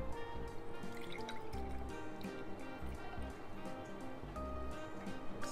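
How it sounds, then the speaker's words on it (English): Cold, full-fat whole milk is poured over ice in a jar, making a quiet, steady trickling fill with light dripping and faint ice clinks throughout, and no talking. "now we're gonna put in some cold, full fat whole milk"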